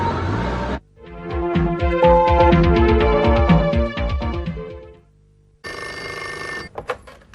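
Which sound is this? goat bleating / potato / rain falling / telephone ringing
telephone ringing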